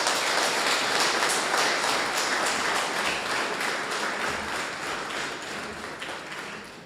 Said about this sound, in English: So I once again ask all of you to give him a big round of applause.